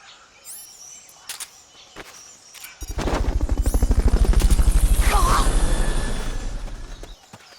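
In Metal Gear Solid Peace Walker, a Fulton recovery helicopter arrives after scattered game sounds and birdsong, its rotor building into a loud, rapid, rhythmic thudding that holds steady for several seconds and then fades.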